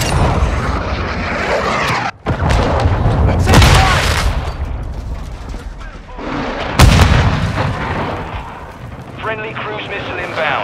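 A friendly cruise missile strike in Call of Duty: Modern Warfare II hits with heavy rolling blasts and rumbling impacts across a loud battlefield, mixed with gunfire and radio voice chatter.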